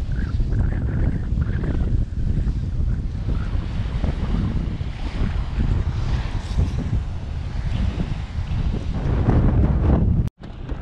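Strong wind roars steadily across the microphone on a seaside jetty at Avon-by-the-Sea, New Jersey, in December, with heavy low rumbling buffeting, and water and surf sound faintly underneath; the noise cuts out abruptly near the end.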